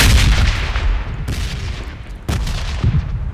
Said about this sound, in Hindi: ऊपर से जो बम गिर रहे हैं, इनका और मेरा रिश्ता बहुत ख़राब है।